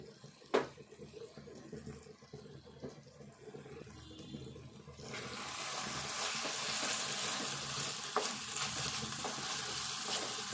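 Ivy gourd and prawn curry simmers and sizzles in a pan, quiet at first with a couple of sharp clinks, then a louder, denser, steady frying hiss for the second half.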